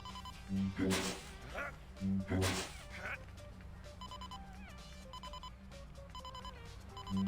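In No More Heroes, the signal used when searching the ground repeats as short, evenly spaced electronic tones, steady and moderately loud, following two louder bursts of game noise at the start.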